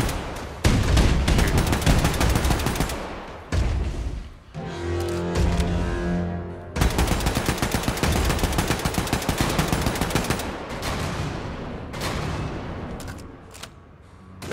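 Wolfenstein II gunfire: loud rapid machine-gun bursts and heavy shots in dense volleys, broken by short pauses and a low rumbling lull midway.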